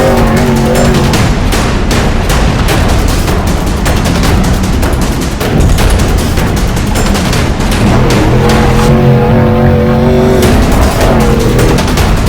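Engine of the number 35 Falken Tires Supreme Suspension Pro Lite off-road race truck in a Lucas Oil Off-Road Racing Series round, loud and close with rapid crackling, popping bursts and revving.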